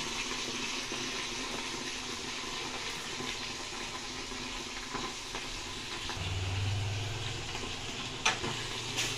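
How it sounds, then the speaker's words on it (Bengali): Chopped onions frying in a pan give a steady broadband sizzle throughout, with a low hum rising near the end and a single sharp clink, no talk. "তারপরে আমি কিছু পেঁয়াজ কুচনো দিয়ে দিলাম"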